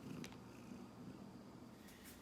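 A pet kitten purrs softly and steadily, a low continuous rumble close by, with faint higher rustles near the start and end and no talking.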